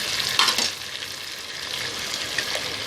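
Ground onion paste hits hot oil with frying garlic and ginger in a pan for a chicken dish, giving a steady close sizzle with a sharper burst near the start as it is stirred, no voices.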